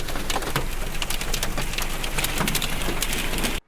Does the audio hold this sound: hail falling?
yes